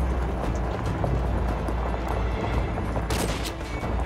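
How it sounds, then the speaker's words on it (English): Distant gunfire crackles through a dense battlefield din in Call of Duty: Modern Warfare 2 Remastered, sniper and rifle shots blending into a steady roar with a sharper burst of reports near the end. "We're taking sniper fire from multiple directions."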